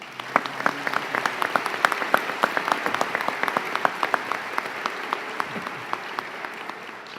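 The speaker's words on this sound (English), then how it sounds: "Please give them a big round of applause" An audience at a health sciences commencement ceremony claps in a sustained, even round of applause, dense and moderately distant, with no one speaking over it.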